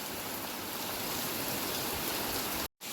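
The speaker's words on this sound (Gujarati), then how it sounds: "વરસાદ આવી ગયો અને હજી પાછળથી રેડું આવે છે" Heavy rain pours over a groundnut field in a dense, steady hiss for almost three seconds, then cuts off abruptly near the end.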